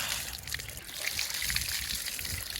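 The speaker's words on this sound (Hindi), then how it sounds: "उस नलके के पानी से मूली भी धोएंगे" Cold tap water gushes and trickles from an outdoor tap as radishes are rinsed under it, a steady close splashing flow with shifting sloshes throughout.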